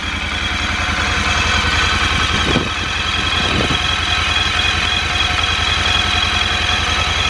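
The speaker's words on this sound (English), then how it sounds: "So if you can find a quieter 1200cc air-cooled V-twin than that, starting from cold, I would be quite surprised." A 1200cc air-cooled V-twin motorcycle engine idles from a cold start with a steady, even low thrum, close and continuous throughout with no talk.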